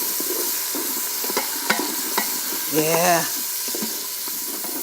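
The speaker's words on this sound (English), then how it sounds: "And I'm going to saute this a little more." Garlic sautéing in an Instant Pot, a steady soft sizzle with a few scraping stir clicks, and a brief voice breaking in partway through.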